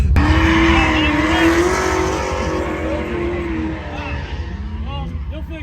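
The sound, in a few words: BMW E36 drift car engine and tire squeal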